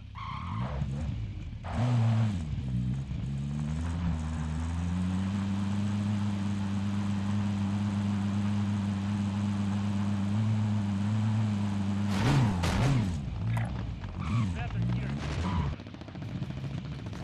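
A vehicle driven in the Modern Warfare Warzone video game, its steady engine drone holding a constant pitch through most of the stretch, with rises and shifts near the start and end, bursts of gunfire and skidding breaking in, and a voice briefly over it.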